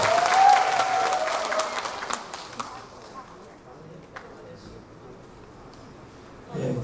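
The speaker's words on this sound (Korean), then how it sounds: "박수 한번 크게 부탁드리겠습니다." An audience at a singer's album launch gives a burst of clapping that is loud at first and then fades into quiet room noise, with a murmur of voices near the end.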